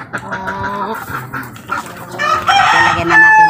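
Chickens raised in a muddy coop cluck repeatedly, then a rooster crows loudly and close by, with no talk over them.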